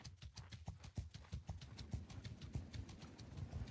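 Horses in the Warsails video game clop along in a quick, steady stream of hoofbeats, moderately close and continuous, with no talk over them.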